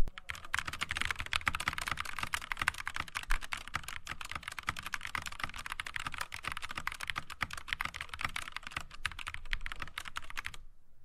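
Rapid, continuous typing on a mechanical keyboard, close and crisp, a steady stream of clacky keystrokes for about ten seconds before stopping abruptly, no talking.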